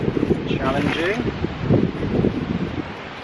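Wind blows outdoors at an evening riverside camp, rushing and buffeting against the microphone while a voice talks over it.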